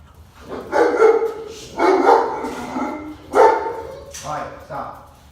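Puppy and dogs barking excitedly during play, with repeated close yips and barks in quick clusters and a voice talking among them.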